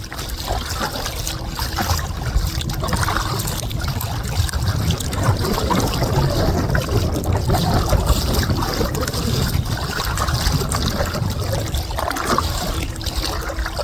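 A kayak is paddled diagonally across choppy waves in the Biesbosch wetlands of the Netherlands, with constant close water wash, splashes and dribbles from the paddle, and no talking.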